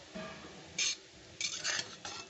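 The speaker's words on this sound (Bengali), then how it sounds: "ঘি দিয়ে আমি এইটা একটু নেড়ে নেব ভালো করে" A utensil stirs leftover bread with ghee in a pan, making several brief metallic scrapes and clinks, fairly faint and close, with no voices.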